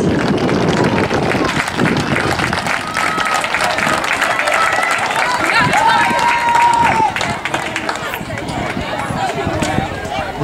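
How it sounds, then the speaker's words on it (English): A crowd at a regional AAA high school boys 800 m race applauds and cheers in a sustained wash of clapping and hubbub, with an announcer talking over it. "Let's give all those young men another round of applause."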